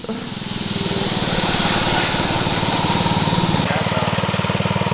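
A mini bike's small engine runs steadily with a rapid buzzing putter, close and loud throughout, rising slightly in intensity toward the end.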